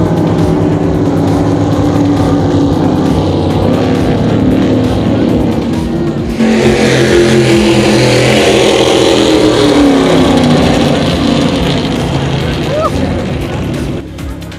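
A loud racing powerboat engine roars steadily nearby at a national championship race, its pitch shifting as it runs hard, with a brief change midway and a voice faintly underneath.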